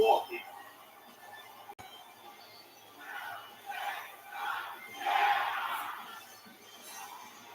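A huge wrestling crowd in a Milwaukee arena roars and chants in swelling waves, heard faintly at a distance.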